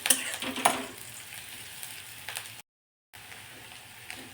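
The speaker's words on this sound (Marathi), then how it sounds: "आता हे व्यवस्थित आपण परतून घेणार आहोत" Sliced radish pods sizzle in a pan with onion, green chili and garlic, a steady close frying hiss with stirring scrapes, broken by a brief moment of complete silence.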